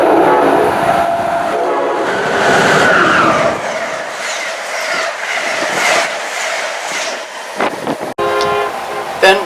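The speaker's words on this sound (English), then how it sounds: "Next we see Amtrak Northeast Regional number 170," Amtrak Northeast Regional passenger train passes loudly and close, rumbling with clickety-clack of wheels, fluctuating as cars go by, with a short horn-like tone near the end.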